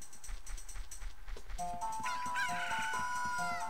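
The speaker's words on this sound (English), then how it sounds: "And the chicken just has to chirp again" A chicken in the video game Zelda: Ocarina of Time crows and clucks in a bright, synthetic squawk that rises abruptly midway, following a low rumbling game background.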